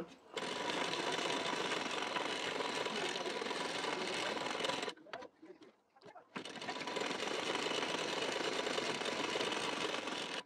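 An electric sewing machine stitching a blouse seam with a fast, continuous whirring buzz that stops briefly in the middle, then resumes steadily.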